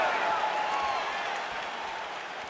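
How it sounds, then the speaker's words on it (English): Arena crowd noise from the EA Sports UFC 4 video game during a simulated Israel Adesanya vs. Khabib Nurmagomedov fight, a steady roar of cheering and murmuring that fades slightly near the end. "You hear this crowd just eating out of his hand, oohing and on every time he advances."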